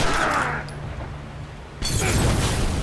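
In The Last of Us, a thrown glass bottle shatters with a sudden, loud crash and burst of noise after a quieter stretch of low game ambience, followed by a lingering rumble.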